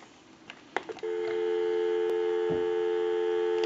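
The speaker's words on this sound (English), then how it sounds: "So we'll go ahead and give you some dial tone." Steady telephone dial tone from a Northern Electric Galion rotary telephone comes in after about a second of faint handling clicks, then holds loud and unbroken.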